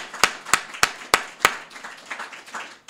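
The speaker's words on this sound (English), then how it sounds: "Give yourselves a round of applause." A few sharp, evenly spaced claps ring out at a mosque gathering, five distinct hand claps followed by softer scattered clapping from a small audience.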